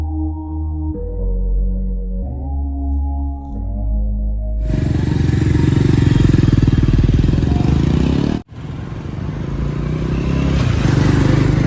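A Bajaj Pulsar 400 motorcycle on a showroom test ride, with a loud, close engine running steadily and a rough, rising drone after an opening stretch of music, briefly cutting out midway.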